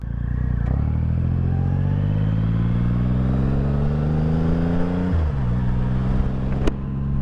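A 2017 Triumph Rocket III Roadster's big engine thrums steadily up close, its note climbing as the bike pulls away in gear, then dipping sharply with a shift before settling back into a loud, continuous rumble.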